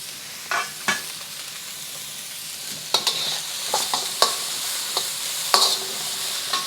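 Onions sizzle softly in a pan for garlic shrimp fried rice, a steady low frying hiss broken by several sharp clacks and scrapes of a utensil stirring, with no talking.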